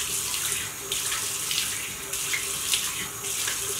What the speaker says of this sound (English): So I'm just going to wet like my face